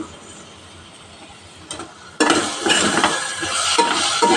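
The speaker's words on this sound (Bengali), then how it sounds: "ভালো করে আমি কষে নেব।" Chhanabora curry being sautéed with sugar in a pan, stirred with a utensil: a quiet start, then a sudden steady loud sizzle with scraping and clinking as the mixture is worked.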